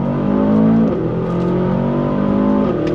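A 2023 Aston Martin DBX 707 SUV engine pulls hard under boost in second gear, a loud, close, rumbling drone whose pitch climbs steadily and then dips as it shifts, with no talk over it.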